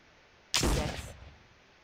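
A single Benelli shotgun blast in the video game Jurassic Park Trespasser, one sharp loud report with a short fading tail, alone against quiet background.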